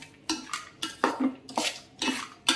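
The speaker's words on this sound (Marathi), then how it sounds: "सर्व परत हे तुपावरती छान असं आपण मिक्स करून घेऊया" A spoon scrapes and clanks against a pan while carrot halwa with khoya is stirred in ghee. The strokes are sharp and rhythmic, about two per second, close and without talk.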